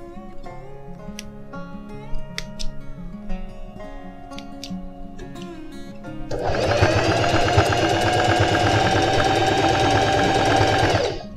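A sewing machine stitches the side seam of a pair of jeans, starting with lighter intermittent whirring, then running loud and steady at full speed for several seconds before halting.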